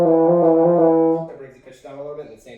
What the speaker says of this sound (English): So it'll sound like this for pressing on the second valve.